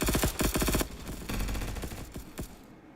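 Rapid MG42 machine gun bursts in a competitive online shooter match, a loud stuttering volley in the first second followed by scattered shots and more distant fire.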